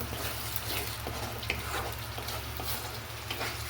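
Masala spice paste fries in oil in a pan in a village kitchen, giving a steady close sizzle and crackle with soft stirring scrapes throughout, and no talk.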